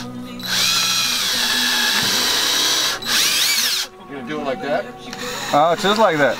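Power drill driving screws into a catamaran stringer: two long high whirring bursts close by, then people talk briefly.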